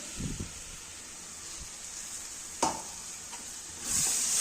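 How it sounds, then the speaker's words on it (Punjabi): Tomato puree goes into a sizzling masala for a wedding-style cauliflower (gobhi) dish. A faint, steady sizzle carries a few soft stirring clicks, then swells into a louder hiss near the end. "ਹੁਣ ਆਪਾਂ ਇਹਦੇ ਵਿੱਚ ਟਮਾਟਰ ਦੀ ਪਿਊਰੀ ਪਾ ਦਵਾਂਗੇ"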